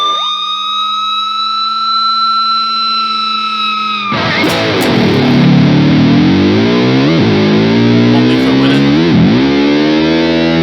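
An Ibanez RG420HPFM electric guitar rings out loud and close with heavily distorted lead tones: a sustained held note first, then a thick, gnarly burst of chords and bending lead lines, played alone with no voices.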